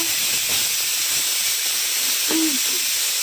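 A loud, continuous hiss of escaping steam from a pressure cooker cooking mutton, steady throughout, with a brief faint whistling tone near the end.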